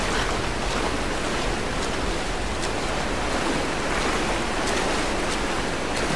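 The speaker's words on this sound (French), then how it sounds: "Non, c'est une cascade." Steady, dense roar of a rushing waterfall in Tomb Raider Definitive Edition on PS4, a constant broadband wash of falling water holding level throughout with no voices over it.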